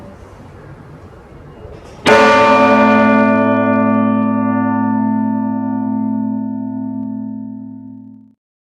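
A single strike of a church tower bell rings out loudly after a brief pause, its rich hum slowly fading over several seconds.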